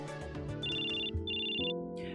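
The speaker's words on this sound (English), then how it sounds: "Your phone is going off!" A phone ringtone sounds in the game Choices: Stories You Play at a beach setting, with two bright electronic ring bursts over a layer of background music and ambience.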